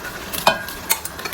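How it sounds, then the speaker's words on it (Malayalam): Beef drops into a pot of simmering onion and tomato masala with a couple of soft, wet thuds and a short stir over a low, steady sizzle, close by with no talking. "ഇനി ബീഫ് ആഡ് ചെയ്യാൻ ടൈമായി"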